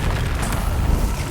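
A Confringo explosive spell detonates in the video game Hogwarts Legacy, a loud, heavy, rumbling boom with a deep low-end burst sustained over a second and a half.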